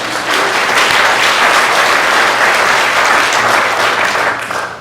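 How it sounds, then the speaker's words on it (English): An audience at a panel discussion applauds steadily, a dense, loud wash of clapping from many hands that holds for several seconds before tapering off. "So let's give him a round of applause."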